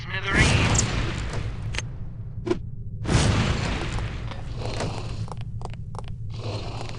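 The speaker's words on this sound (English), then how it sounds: "These relatively inconspicuous-looking lipsticks are actually powerful explosive devices that detonate on impact." Lipstick-shaped explosives detonate on impact in the spy video game No One Lives Forever: two loud, sharp blasts a few seconds apart, each trailing off into a rumbling tail over steady background game noise.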